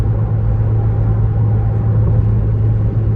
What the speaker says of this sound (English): Big crosswind, you can probably hear it.